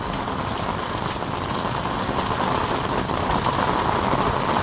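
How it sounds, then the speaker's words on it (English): Heavy rain pouring down in Southern Nevada, a dense, steady hiss that stays loud and unbroken throughout with no talk. "That's a lot of rain"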